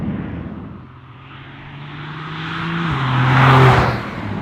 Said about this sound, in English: one obvious negative about this car, and in fact every 992 generation 911 that I've driven to date, is the tyre roar